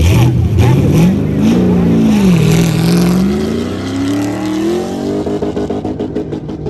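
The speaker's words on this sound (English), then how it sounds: "Peters in the Datsun sitting on the start line" A race car engine idling and revving at a drag race start line, a Datsun sitting at the line: a loud rising and falling engine drone that turns to choppy, pulsing revs near the end, with a commentator speaking over it.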